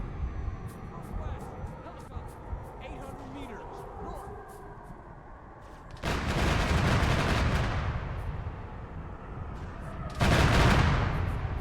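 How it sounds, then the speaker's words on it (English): Plasma weapons fire in a Halo-style combat mission, heard as two loud bursts of sustained rapid shooting around the middle and end, over a backdrop of distant gunfire, battle noise and scattered shots. "plasma rounds being fired"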